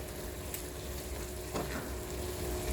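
Ginger fries with caramelized onions and garlic in a pot, giving a faint, steady sizzle throughout, with a soft stir partway through.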